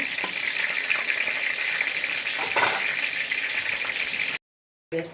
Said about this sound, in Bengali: এখন আমি এটাকে ভালোভাবে নেড়ে নেব।